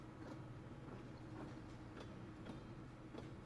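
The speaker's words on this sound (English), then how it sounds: "No one sells tickets to ride this train." A train rolls along in the video game Pathologic 2, its wheels clacking at a steady rhythm of roughly two beats per second over a low, constant rumble, quiet and even throughout.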